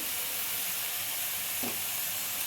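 Spices and turmeric are stirred into boiled chicken momo filling, giving a steady soft hiss and sizzle with a brief scrape partway through, close and even in level.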